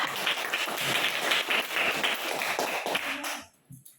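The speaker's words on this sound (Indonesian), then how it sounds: "Berikan aplaus dulu buat kelompok 2." A classroom of students claps for group 2 in a science lesson, a dense burst of many hands applauding together before it tapers off and falls silent at the end.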